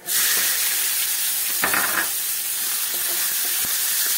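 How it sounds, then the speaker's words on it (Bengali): Chopped onion fries in hot oil in a pan, a loud, continuous close-up sizzle throughout, with a brief scrape of stirring near the middle and faint taps later. "আমি পেঁয়াজটাকে কিছু সময় ভাজা করব"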